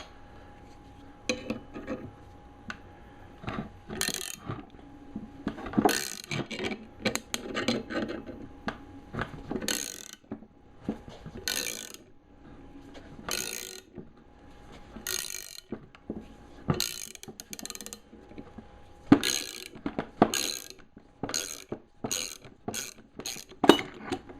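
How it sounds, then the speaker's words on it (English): A bearing is worked off the shaft of a Delta 22-540 planer with a puller, giving irregular metallic clicks, ratcheting and clinks in uneven bursts separated by quiet gaps. "So now I just need to reset and pull the bearing off the rest of this shaft."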